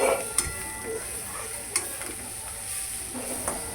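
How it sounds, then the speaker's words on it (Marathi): Vegetable bhurji with finely chopped coriander being stirred and sautéed in a pan, giving a soft steady sizzle with a few sharp utensil scrapes and clinks against the metal. "वरून बारीक कापलेली कोथिंबीर ती पण आपण टाकतो आणि ती पण परत थोडंसं परतवून घेऊ"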